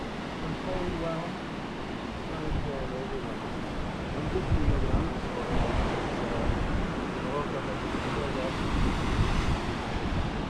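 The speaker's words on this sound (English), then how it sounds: "Listening to those waves up close." Ocean waves break at Point Dume in Malibu, a steady loud wash of surf heard from a clifftop with wind buffeting the microphone, constant and rolling throughout, with no clear talk.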